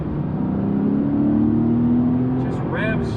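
Air-cooled flat-six of a Porsche 993 Carrera revving on a highway, a steady loud engine drone with a rising pitch as it climbs through the revs, heard from inside the car alongside road noise, with a brief voice near the end.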